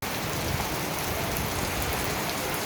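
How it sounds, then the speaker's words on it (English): A light rain shower in Kumrat valley, Pakistan, a dense steady hiss of drops falling on surfaces, even and unbroken from start to finish with no voices over it. "And now there's a pour, a light shower."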